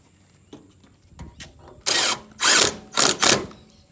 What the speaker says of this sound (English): Go through and just drill out the other two holes on top